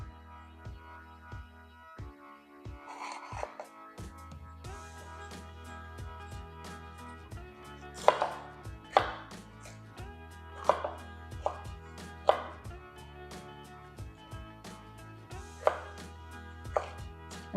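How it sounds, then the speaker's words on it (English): A knife dices green bell pepper and jalapeno on a cutting board, sharp irregular chops, some in quick runs and some spaced out, close and fairly quiet over a soft low hum. "dice up a green bell pepper. You can use a red one if you want to, and a jalapeno."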